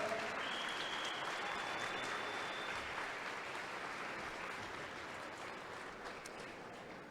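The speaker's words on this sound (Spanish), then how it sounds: "Ahora denle una ofrenda de palmas" A church congregation applauds during a sermon, broad sustained clapping from many people in a reverberant room, starting full and slowly softening over several seconds, with faint voices and a brief whistle-like tone early on.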